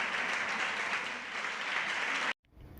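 Steady applause fills a parliament chamber after an institutional declaration in defence of the National Art Museum of Catalonia, a dense, even wash of many hands clapping that stops abruptly near the end.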